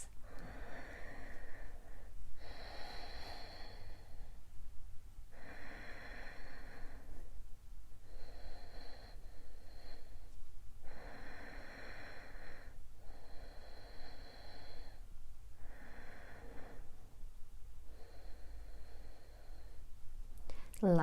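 Slow, deep yogic breaths drawn in and let out during a seated twist in a slow-flow yoga class, soft rhythmic whooshes of roughly two to three seconds each, close and steady with short pauses between.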